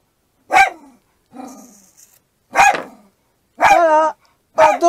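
A dog barks at people outside a camper van, five sharp, close, loud barks spaced irregularly, with some yelping, rougher tones among them.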